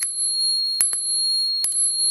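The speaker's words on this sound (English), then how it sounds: "Nice bell." Two quick double rings of a bicycle-style bell on a Jetson Breeze electric scooter, bright and close, with each pair of strikes separated by a short pause.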